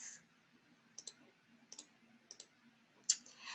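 A computer mouse clicks in quick pairs of soft, close taps, spaced about every half second, and then one sharper click, over a low, quiet room hum with no talking.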